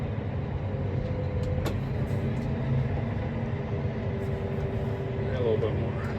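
A vehicle pulls a Bourgault seed drill forward a short distance, giving a continuous low engine rumble, with a voice talking over it.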